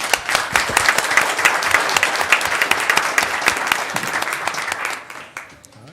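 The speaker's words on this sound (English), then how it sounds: "Let's give them another round of applause." Parents and students at a school board meeting clap together in a strong, dense round of applause with sharp individual claps, which fades out abruptly near the end.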